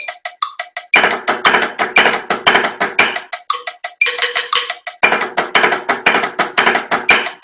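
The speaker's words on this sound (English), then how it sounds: "And then the next one will be diddle on the downbeat, flam on the third partial." Snare-style practice strokes at a percussion clinic work through a diddle-on-the-downbeat, flam-on-the-third-partial rudiment, with crisp, loud, close hits in tight repeating rhythmic groups and short breaks between phrases.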